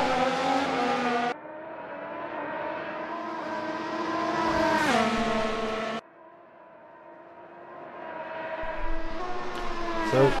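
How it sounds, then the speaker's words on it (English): Race cars during practice at the Melbourne Australian Grand Prix: a loud, high engine whine rises and swells as cars pass, fading and returning in continuous waves with no talk. "The cars are screaming on my stream."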